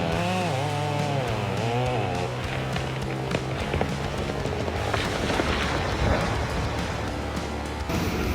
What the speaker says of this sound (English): The chainsaw lunged forward like a steel jaw, grinding through the tough layers of wood.